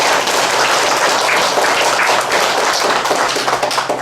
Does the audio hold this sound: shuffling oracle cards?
no